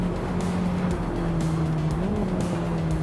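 A BMW E30 M3 race car in a VR sim racing game drives at speed, its engine drone steady and loud with small pitch shifts and tyre noise, and no talk over it.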